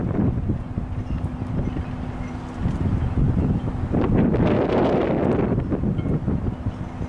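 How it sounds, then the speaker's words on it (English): Steady wind buffets the microphone over Humboldt Bay, a continuous rumbling roar that gusts stronger partway through. "It's a windy day, so he's really drifting with that wind."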